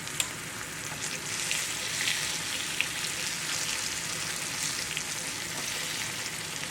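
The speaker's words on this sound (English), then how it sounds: "I got through frying these pork chops" Flour-dredged pork chops fry in a pan with a steady, close crackling sizzle that carries on evenly, with a few louder pops rising out of the hiss.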